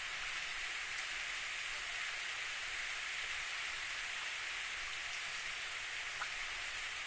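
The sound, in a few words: rain falling, from the video game Steins;Gate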